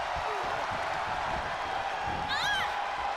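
An arena crowd roars with a steady wash of cheering at a women's wrestling battle royal, loud and continuous, with a brief whistle-like whoop rising near the end.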